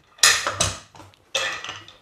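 A lidded Afghan kazan holding rabbit in sour cream is set down on a stove. It gives two close metallic clanks of pot and lid, then a further clatter a moment later.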